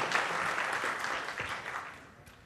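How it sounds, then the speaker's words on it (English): Applause for a speaker at a software conference talk on functional programming and lambda calculus, a dense wash of many hands clapping at moderate distance that fades gradually toward the end. "A round of applause, please, before we get started, actually."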